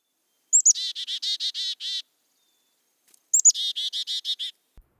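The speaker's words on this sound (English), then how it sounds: "That was a black-capped chickadee," A black-capped chickadee calls twice, each a burst of several quick, bright, evenly spaced notes after a higher whistled lead-in, separated by a few seconds of silence.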